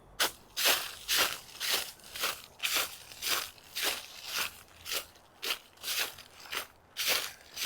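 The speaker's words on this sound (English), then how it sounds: "Crunchy leaves." Footsteps crunching through dry fallen leaves along a park path in September, about a dozen regular crackling steps in a steady walking rhythm, close and crisp with quiet gaps between them.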